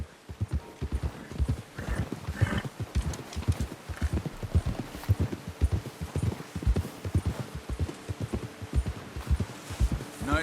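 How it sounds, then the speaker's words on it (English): Steady, loud clip-clop of horse hooves in Red Dead Redemption 2, a rapid rhythmic pounding that runs for the whole stretch, with brief speech over it. "Get a hold of that horse, Arthur."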